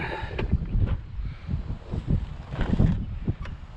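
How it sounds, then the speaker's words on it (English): Gusty wind buffets a GoPro 7 microphone outdoors, producing uneven low rumbling bursts and rustle that rise and fall throughout, with no speech. "I apologize for this wind out here today."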